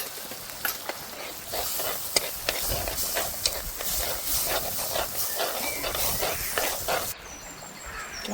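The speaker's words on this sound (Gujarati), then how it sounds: "આપણે હવે એમાં નાખી દઈશું આદુ લસણ મરચાંની પેસ્ટ" Ginger, garlic and chili paste hitting hot oil in a pan with peas, a steady hiss and sizzle with occasional stirring scrapes, close and continuous before quieting near the end.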